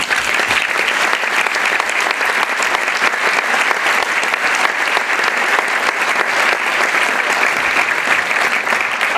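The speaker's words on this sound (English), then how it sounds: "really quickly give the kids a round of applause" A concert audience gives the school band kids a steady, loud round of applause, even and unbroken clapping from many hands for about nine seconds, with no talk over it.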